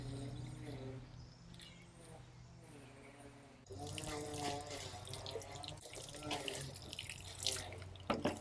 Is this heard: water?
yes